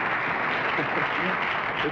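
A TV game show studio audience applauds steadily, a dense even clapping with no pause, while talk may sit faintly underneath.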